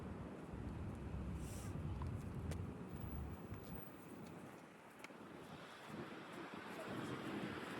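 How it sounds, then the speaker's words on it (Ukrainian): Strong gusty wind buffets the microphone outdoors on a cold hilltop in Lyon, France, a steady low roar with rushing surges that ease slightly midway before building again. "Дуже вітер."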